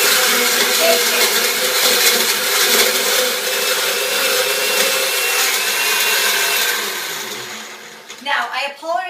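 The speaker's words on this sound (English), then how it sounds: "You're going to hear the loud noise of the blender." A blender making a smoothie roars loudly and continuously for several seconds, then slows, its motor pitch wavering as the blending winds down.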